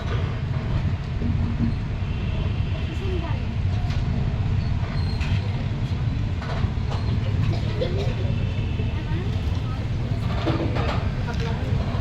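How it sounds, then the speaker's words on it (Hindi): The Doon Express rumbles steadily away from Raiwala Junction toward Yog Nagari Rishikesh, a continuous low rolling drone heard from aboard, with someone speaking over it. "रायवाला जंक्शन ट्रेन का डिपार्चर हो गया दून एक्सप्रेस का योगनगरी ऋषिकेश की दिशा में"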